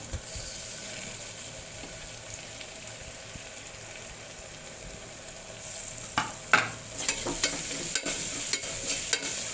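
Oil sizzling steadily in a pan for a vegetable biryani, then tomatoes dropped in and frying louder, with scattered stirring clinks and crackles rising toward the end; no talk.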